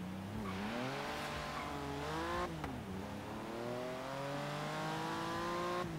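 Porsche in the Forza Horizon 3 racing game accelerates through several gears, the engine note climbing, dipping at each shift, then rising again, with a sustained loud, close howl throughout.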